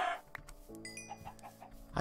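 Chickens in the Minecraft video game give several short, clipped clucks in quick succession, fairly close and clear, with no talking.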